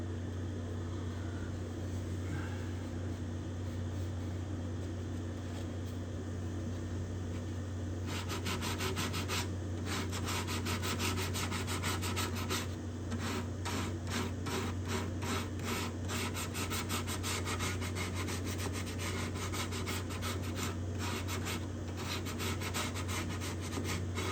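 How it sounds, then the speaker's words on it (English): Hand sanding spruce guitar bindings with 150-grit sandpaper, a soft steady hiss that turns into quick rhythmic scratching strokes over a low background hum. "I have this sandpaper, which this is 150."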